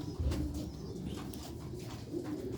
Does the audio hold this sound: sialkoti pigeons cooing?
yes